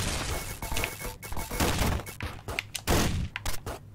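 Shotgun blasts fired in the Downwell video game, a rapid run of loud, punchy bursts with sharp attacks that cluster into a dense volley and then break into separate louder shots toward the end.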